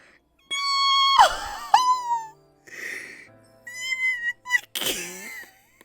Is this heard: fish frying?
no